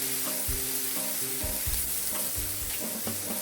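A cup of diced onions fries in a pan for stuffed-pepper jambalaya: a soft, continuous sizzle with repeated short scraping strokes of a utensil against the pan.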